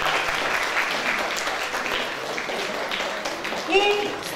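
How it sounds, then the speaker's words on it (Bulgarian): Sustained applause from an audience at a town sports awards ceremony, a steady crowd wash of many hands clapping throughout, with a voice speaking faintly over it near the end. "Още веднъж аплодисменти за нашите спортисти."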